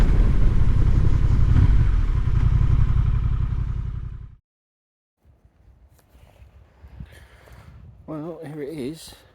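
A Honda XL750 Transalp motorcycle being ridden gives a loud, steady, throbbing engine drone close by, then cuts to near silence, followed by faint clatter and a short warbling electronic tone.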